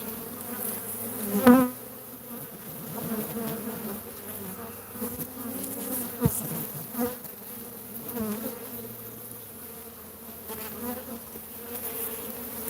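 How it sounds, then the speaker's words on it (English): Bees from an open wooden beehive buzz continuously and close by, a dense droning swarm with a few louder bumps and knocks from handling the hive, and no talking. "Damn you bees."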